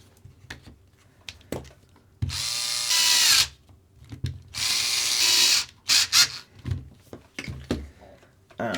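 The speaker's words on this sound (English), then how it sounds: "quickly replace the two screws on the bottom" Two screws driven into the bottom of a Kyosho Optima Mid '87 RC car with a power driver, two loud whirring bursts a couple of seconds apart, followed by short buzzes, clicks and light handling knocks nearby.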